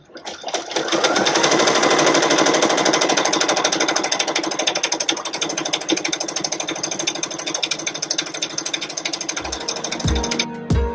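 A Ricoma EM1010 embroidery machine stitches patches with a loud, rapid, continuous needle chatter and mechanical hum for about ten seconds, then slows and stops with a few clunks.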